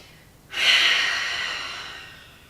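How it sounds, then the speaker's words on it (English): A deep cleansing breath drawn during a yoga session, a single long, smooth airy exhale that starts abruptly, swells quickly, then tapers slowly over a couple of seconds against a quiet room. "Close your eyes and take a cleansing breath"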